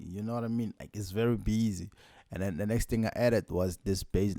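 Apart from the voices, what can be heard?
No everyday noises stand out.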